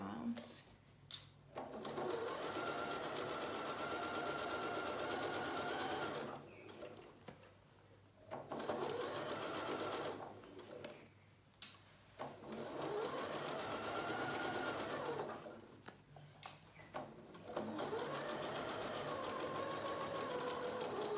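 A sewing machine stitches around a fabric bucket in long steady runs, broken by short pauses and brief back tacks, with a quiet voice talking between runs.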